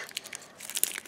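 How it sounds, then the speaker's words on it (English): Plastic wrapping on a LOL Surprise Glitter Series ball is torn open, making a brief run of soft crinkles and rips close by, with a few sharper crackles near the end. "We're just ripping it open."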